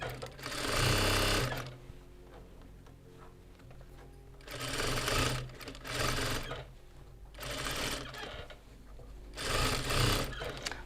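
A sewing machine stitches a calico skirt in four loud bursts of rapid, even needle chatter. Quieter pauses fall between the bursts.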